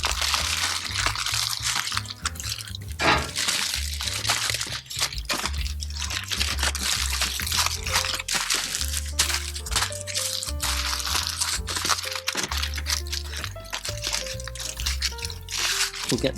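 Oak-smoked beef short ribs wrapped gently to keep in their juices, with continuous crinkling and rustling of wrap plus soft squishy handling, set against a faint musical backdrop.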